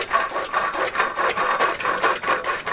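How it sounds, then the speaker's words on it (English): A hand saw cuts through PVC pipe during a sump pump replacement, making a steady back-and-forth rasping of about eleven strokes. Each bright, scratchy pass is close and alone, with no talking. "It's designed for cutting PVC pipe."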